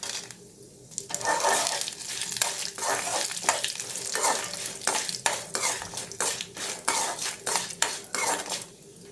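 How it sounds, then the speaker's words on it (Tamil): Two kinds of lentils with dried red chilies roasting in a pan for kadamba chutney, a steady dry scraping and stirring with sharp metallic spatula clicks against the pan, close and continuous with no talk. "இப்போ 2 பருப்புமே நல்லா வறுபடட்டும், வாசனை வர வரைய வறுத்துக்கலாம்."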